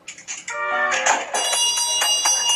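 A shop door bell rings close by with a bright, clanging jingle of repeated metallic strikes whose tones ring on and overlap, loud and with no voices.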